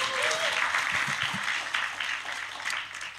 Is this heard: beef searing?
no